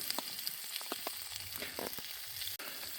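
Continuous hissing sizzle of sausages in a hot frying pan at a wild camp, dotted with scattered crackles and pops, close by and fairly quiet.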